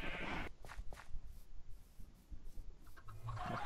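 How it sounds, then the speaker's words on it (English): A sheep bleats in Minecraft on a farm, with several distinct wavering bleats spread across the clip, moderately loud, amid light background sound. "There's a sheep."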